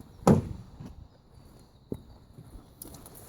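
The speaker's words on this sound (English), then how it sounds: "If you come around this side, and I'll open the door." Door of a Jayco Conquest motorhome on a Renault chassis opens with a sharp close thump, followed by a fainter click a little later, with no talk.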